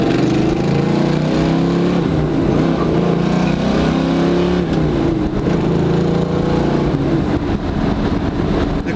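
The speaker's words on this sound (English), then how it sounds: "Definitely a good sounding V8, but it doesn't beat you up when you're inside the car." A 1973 Dodge Challenger V8 engine heard from inside the car while driving, a loud, steady low rumble with slight shifts in pitch and no talk.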